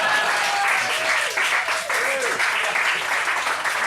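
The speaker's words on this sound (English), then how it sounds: "Round of applause." A comedy club audience applauds a stand-up comedian, with a dense, loud wash of clapping that holds steady for several seconds and some faint voices mixed in.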